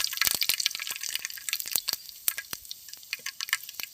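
Mustard seeds and urad dal splutter in hot oil with rapid, irregular sharp pops and crackles that scatter densely at close range.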